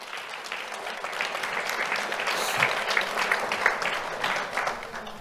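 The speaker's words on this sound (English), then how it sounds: "Let's have a round of applause for Hector Villacorta Lopez." A crowd at an afternoon awards ceremony applauds an honoree, steady dense clapping that swells slightly mid-way and holds throughout without speech.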